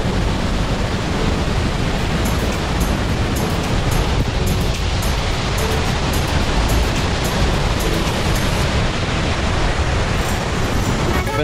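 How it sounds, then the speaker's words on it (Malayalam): Chunayamakal waterfall in Munnar roars as a loud, dense, unbroken rush of falling water close by, mixed with wind buffeting the microphone. "മൂന്നാറത്തെ ഏറ്റവും ബെസ്റ്റ് വെള്ളച്ചാട്ടം"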